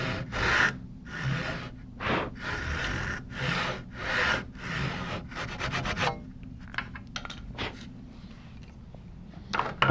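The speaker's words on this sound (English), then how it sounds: "So I'm going to take a crosscut saw with fine, relatively fine teeth." A fine-toothed crosscut sash saw cuts wood while a traditional sawbench is built by hand, giving steady rhythmic rasping strokes, close and fairly loud, that quicken into shorter strokes before the cut finishes.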